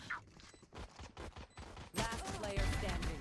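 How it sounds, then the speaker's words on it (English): Ghost pistol firing rapidly in Valorant, a fast close burst of repeated shots that grows louder and denser near the end, with faint game noise beneath. "Why is our ghost a fully automatic weapon right now?"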